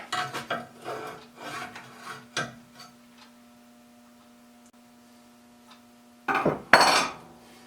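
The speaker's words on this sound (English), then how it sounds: "I can just slide the blade along and it automatically squares it up and grinds it at the bevel that I want it to." A hand plane blade rubbed along a sharpening surface at its bevel, with the cap iron used as a stop, making rasping scrapes in a rough rhythm, a quiet pause with a faint hum, then a loud close burst of grinding.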